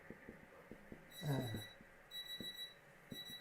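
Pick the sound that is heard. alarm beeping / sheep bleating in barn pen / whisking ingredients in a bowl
alarm beeping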